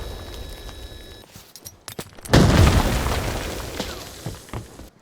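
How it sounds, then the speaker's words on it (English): Grenades go off in the Arena Breakout: Infinite video game. A heavy, booming blast hits midway and its rumble fades slowly, with scattered clatter and thuds before and after. "grenades start falling from the sky"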